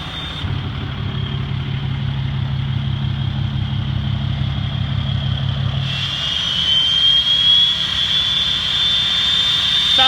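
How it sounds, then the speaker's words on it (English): The exhaust brake on a lifted 2010 Dodge Ram 2500 Laramie 4x4 with a 6.7L Cummins turbo diesel gives a loud, steady roar with a low pulsing drone. Partway through it turns into a rising high whine like a jet engine, with no talking. "My favorite thing about this truck and all the Cummins is the exhaust brake."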